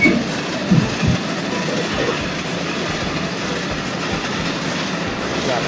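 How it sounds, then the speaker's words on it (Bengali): Steady rumble and rattle of the night Probal Express passenger train running on rails between Lohagara and Cox's Bazar, with faint rhythmic clatter from the wheels throughout. "আমাদের ট্রেনটি আরবাং রেলওয়ে স্টেশন অতিক্রম করে চকরিয়া স্টেশনের দিকে এগিয়ে যাচ্ছে"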